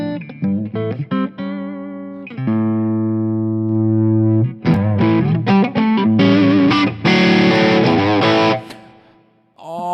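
Electric guitar with light overdrive through a Fractal Axe-FX III, mixing ringing sustained chords with quick picked notes, loud and close, ending in a fading decay.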